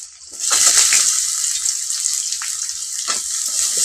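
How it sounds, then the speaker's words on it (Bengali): Chopped onion, added after garlic cloves and nigella seeds, fries lightly in hot oil in a pan with a steady close sizzle and a few soft stirring scrapes near the start. "নেড়ে চেড়ে নেবো পেঁয়াজটা হালকা করে ভাজবো"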